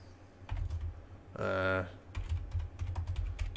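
Typing on a computer keyboard, soft scattered clicks and keystrokes at close range, interrupted midway by a brief tonal electronic sound, then more quiet tapping.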